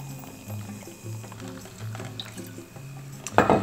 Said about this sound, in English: And then we need to add the sparkling water.